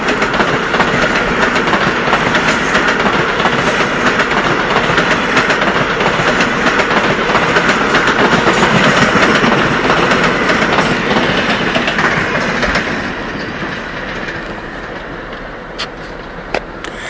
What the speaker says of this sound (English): Here comes a nice flyby by the Long Island Railroad.